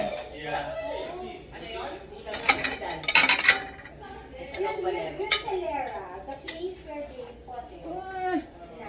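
Plates and dishes clink and clatter at a home lunch, with scattered bright knocks of crockery and cutlery over several seconds while people chat throughout.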